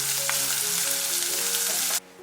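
Minced pork stir-fried with pepper and soy sauce in a hot wok, a loud dense sizzle under a ringing metallic scrape that cuts off abruptly near the end.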